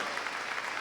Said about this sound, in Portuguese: aplauda mais forte então o nome de Jesus